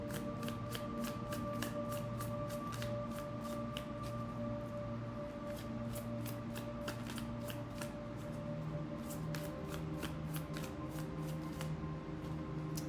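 Oracle cards from a Light of Path deck shuffled by hand, a steady run of soft, quick riffling clicks close by over a low background hum, no speech.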